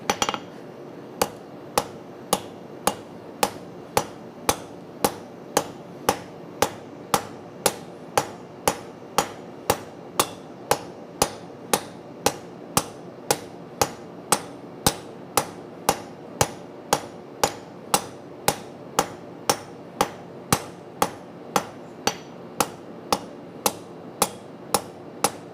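A blacksmith's hammer strikes hot metal on an anvil at a forge, ringing blows repeating at a steady, even rhythm of roughly two per second, loud and close, with no talk.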